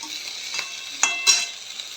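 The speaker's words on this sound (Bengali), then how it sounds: "এই সময়টা আমি শাকটা এর মধ্যে দিয়ে একটু ভালো করে নাড়িয়ে নেব" Spinach greens are stirred in a frying pan, a soft continuous sizzle broken by a few sharp scrapes and clatters of the spoon against the pan, close and without talk.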